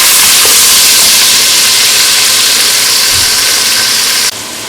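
Onions and peppers sizzle in a hot pan, a loud continuous hiss that holds steady for several seconds before dropping off abruptly near the end.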